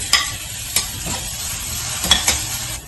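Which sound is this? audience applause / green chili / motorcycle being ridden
green chili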